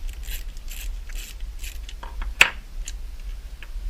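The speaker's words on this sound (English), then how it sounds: "Go ahead and loosen that. Take the screw out." A screw is turned loose and pulled from a Chevy SS sedan's interior trim panel, giving faint repeated ratchety scrapes, one sharp click midway, and quiet mechanical rattling at close range.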